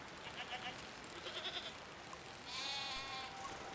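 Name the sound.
goats bleating in a video game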